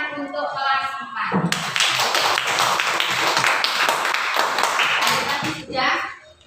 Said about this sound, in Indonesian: Tepuk tangan untuk kelas 4.